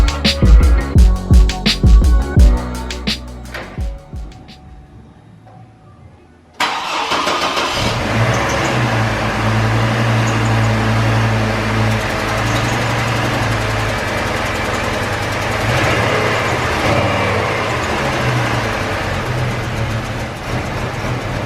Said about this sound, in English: we went ahead and started it up, and it's still doing the rough idle